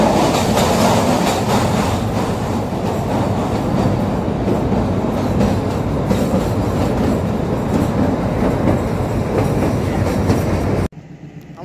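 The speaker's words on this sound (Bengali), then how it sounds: "আমাদের টয় ট্রেন এখন বারগ স্টেশনে পৌঁছে গিয়েছে।" The Kalka–Shimla narrow-gauge toy train in Himachal Pradesh pulls into Barog station after its 1100-metre tunnel. A loud, heavy rumble of wheels and carriages carries a rhythmic clickety-clack for about eleven seconds, then cuts off abruptly.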